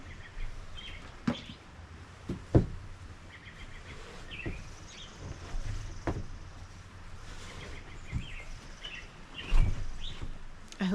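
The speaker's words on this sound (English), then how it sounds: "What if I let you listen to the birds for a minute?" Scattered bird chirps and short calls come from a distance over a quiet outdoor background, with occasional sharp knocks and thumps close by.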